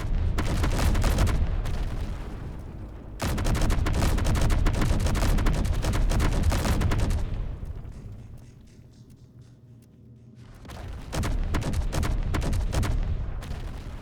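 Turret guns in the Space Engineers video game firing at meteors: loud, dense bursts of rapid gunfire in two long stretches, broken by a quieter lull with a low rumble before the shooting resumes.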